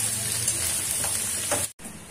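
Curry leaves fry in hot oil with a steady, loud close-up sizzle and crackle that runs nearly the whole time, broken by a brief silent gap near the end.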